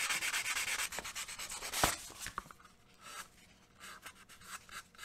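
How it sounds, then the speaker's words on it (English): 220-grit sandpaper rubbed over the glued joints of a wooden Tie Fighter model, a close, quiet, steady back-and-forth rasping with a few small knocks, and no talking. "you can take your 220 sandpaper and you can smooth and feather the edges of all your joints"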